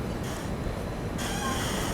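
Rumble and rattle of Itarsi Bhopal Express and Vindhyachal Express trains running side by side on the outskirts of Bhopal Junction, a steady broadband roar of wheels and carriages heard from on board, with no talk.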